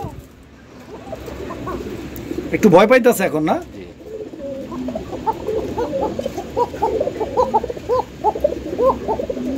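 Male and female pigeons coo repeatedly in soft, rolling calls, with a louder burst near the start and someone talking briefly over the birds.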